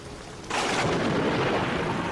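Thunder from lightning bolts near the Mecca clock tower, a sudden loud broad roar that breaks in after a quieter half second and rolls on steadily without fading.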